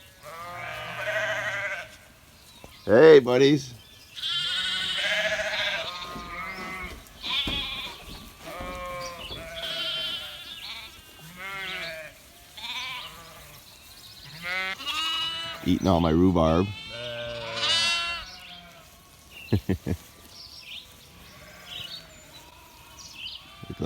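Several sheep bleat loudly and repeatedly in a backyard next to an antique barn, their wavering cries rising between a man's close, friendly talk over the whole stretch.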